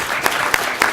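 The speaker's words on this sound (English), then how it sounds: "If you can give the panel members a round of applause." A conference audience claps for a panel, a brief continuous patter of applause with a few sharper claps standing out.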